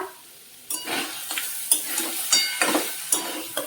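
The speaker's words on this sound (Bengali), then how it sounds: "দিয়ে এটা ভালো করে কষিয়ে নেব" Spices and jaggery are sautéed in a pan, starting with a quiet moment and then breaking into a close, steady sizzle punctuated by repeated sharp stirring scrapes and clinks, with no voices.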